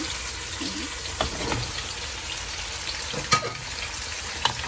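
Mixed vegetables go into a pan of onion, chili and garlic sautéed with a little water, cooking with hilsa fish. A loud continuous sizzle runs with occasional spatula scrapes and clicks.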